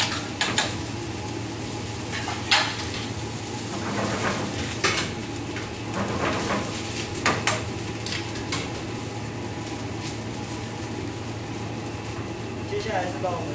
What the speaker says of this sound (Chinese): 然后把我们的海鲜食材放入锅中翻烫。